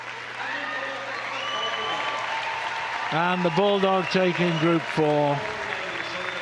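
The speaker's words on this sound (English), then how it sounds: "That's getting a big cheer too." A crowd at the Crufts 2014 dog show in the Utility group judging cheers and applauds loudly as the Bulldog is announced, with a commentator speaking over the steady clapping throughout.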